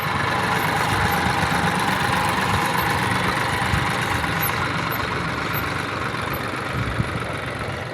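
A tractor engine idles on a chickpea threshing floor, a loud, steady rumbling drone that stays even throughout with no voices.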